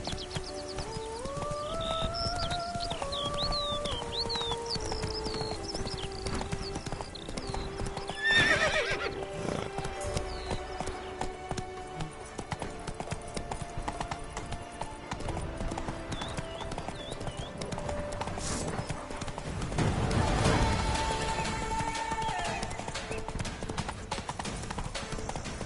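Roach the horse galloping in The Witcher 3, rapid rhythmic hoofbeats drumming close and loud with neighs and whinnies cutting in, plus musical tones layered in the background.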